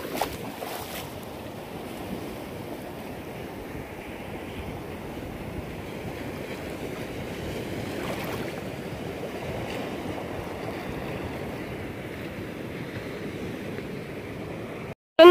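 Ocean waves wash steadily in a broad, continuous roar with wind buffeting the microphone, no clear individual breaks standing out, heard close and fairly loud throughout.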